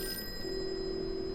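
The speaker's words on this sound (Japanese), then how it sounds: "電話が鳴っている" A telephone rings steadily in the Call of Cthulhu video game, a sustained electronic bell tone with no talk over it, heard at moderate volume throughout.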